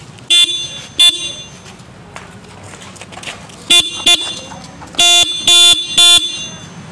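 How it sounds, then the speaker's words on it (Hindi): A loud single-tone horn on a Yamaha FZ X motorcycle honks in short bursts, a few isolated beeps then a quick run of three, over a low idling engine. "और हॉर्न का आप एक बार साउंड सुनिए"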